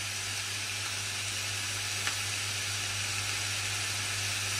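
Ground meat fries in an uncovered pan for a white lasagne, giving a steady, close, dense sizzle with one faint click partway through.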